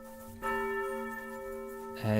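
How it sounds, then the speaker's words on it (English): Church bells ringing in the video game Kingdom Come 2, a bell strike with a long sustained ringing hum, then a second strike near the end, fairly loud and with no voices. "I have added also the audio for the church, so we hear the bells."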